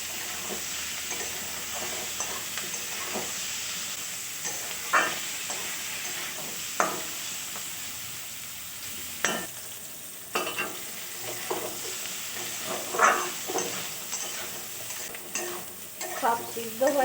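Flattened rice with egg mixture and chili paste fries in a pan, giving a soft, constant sizzle. A spatula scrapes and taps in irregular bursts as the mix is stirred.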